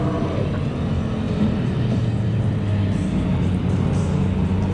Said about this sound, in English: Sounds like maybe a 1UZ.